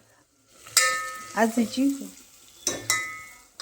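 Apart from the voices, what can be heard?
garlic and cumin tempering sizzling in oil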